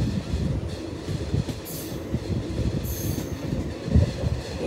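A train rumbles past on a single-track railway near a hill station, loud and close, with a steady heavy roll of wheels and two brief high wheel squeals.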